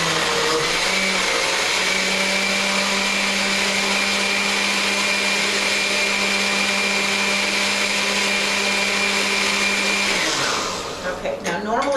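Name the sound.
Oster 14-speed blender running on low speed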